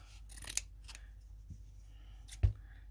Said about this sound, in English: I'm just going to cut 2 bunny ears